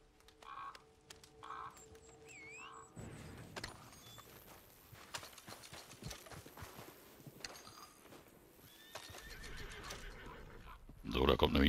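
Horses neigh and clop in the video game Red Dead Redemption 2, a whinny and hoof steps heard among game sounds and music while someone talks over them, growing louder toward the end.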